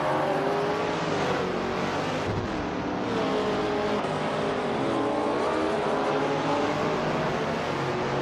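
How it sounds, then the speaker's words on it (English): A 1966 McLaren Elva Chevrolet race car in a racing video game, its engine droning steadily and close, with shifting revs and wavering pitch throughout, and no talking. "Lithocarp is driving a 1966 McLaren Elva Chevrolet, starting in 7th place."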